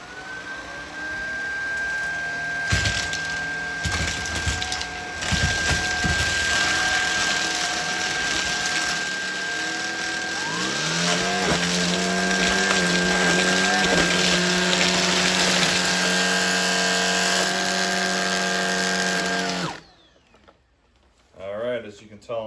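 A Shark Vertex DuoClean cordless vacuum runs over a hardwood floor with a loud, steady high motor whine and a few rising pitch sweeps midway, then shuts off abruptly near the end.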